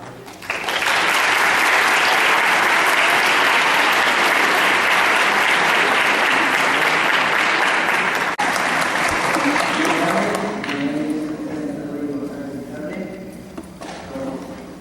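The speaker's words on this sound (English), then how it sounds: "Please receive this delegation with a warm applause." Warm applause from a Model UN audience welcoming the Botswana delegation, loud sustained clapping for about ten seconds before it thins and fades, with some voices emerging toward the end.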